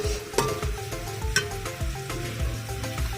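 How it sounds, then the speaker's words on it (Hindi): Onions sizzling and frying in hot ghee over high flame, with occasional stirring clinks against the pan, close and steady. "और इसको हाई फ्लेम पर लाइट ब्राउन होने तक अच्छे से फ्राई करेंगे।"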